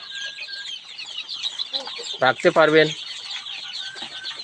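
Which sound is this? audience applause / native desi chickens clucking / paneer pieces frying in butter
native desi chickens clucking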